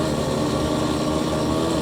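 Small Suzuki FZ50 moped engine buzzing steadily up close while riding through a village, a continuous droning tone with no clear break or shift audible in the short stretch.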